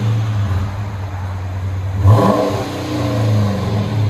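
Chrysler 300 with a 5.7L HEMI V8 and aftermarket exhaust idling with a deep rumble, then blipping into a short rev around the middle before settling back to idle; close, no talk.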